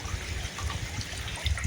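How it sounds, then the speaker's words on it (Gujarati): Natural spring water trickles from rock inside a mountain, giving a steady, soft, hissing flow over a low rumble, continuous throughout with no voices. "આ નેચરલ પાણી છે જે પહાડની અંદર પથ્થરમાંથી આવે છે"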